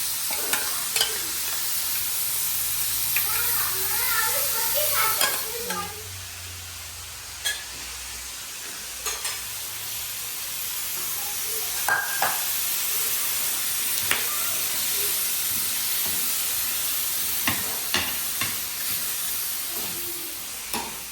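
Boiled mutton liver and kidney fry in a pan with a steady sizzle and hiss, broken by occasional scraping stirs and clinks of the utensil.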